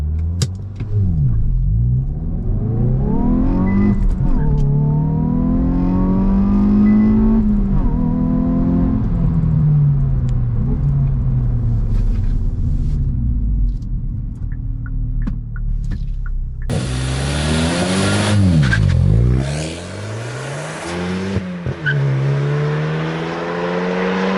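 A 2021 Hyundai i20N with a manual gearbox launches hard, its engine loud and close as it revs up through rising sweeps, drops briefly at a gear change, then climbs again with strong rumbling acceleration.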